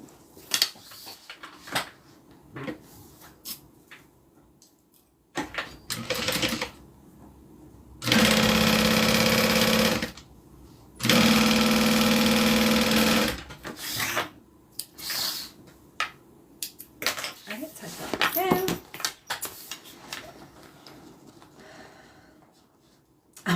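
Domestic sewing machine stitching a zipper pocket shut on a bag: two loud steady bursts of motor whir and needle chatter lasting a couple of seconds each, set among quieter shuffling and short handling clicks.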